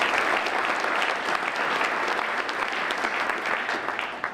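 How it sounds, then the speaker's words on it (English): Steady, dense applause from the members at a Rotary Club meeting, sustained evenly throughout without voices on top. "Round of applause for Jim."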